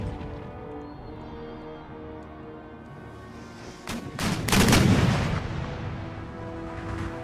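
Howitzer artillery fire in Empire: Total War, a burst of heavy booming shots around the middle of the stretch that rises out of a steady game soundscape and then rolls off, fairly loud and close.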